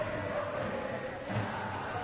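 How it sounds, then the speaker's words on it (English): A stadium crowd at an Asian Games badminton final cheers for the Indonesian players, a dense, continuous roar of many voices heard at a distance with no pauses. "here are the passionate supporters in the crowd who cheered and yelled and beat their drum for every point that Indonesia earned"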